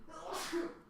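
A single short sneeze bursts out nearby in a quiet room, a breathy rush with a voiced edge lasting under a second.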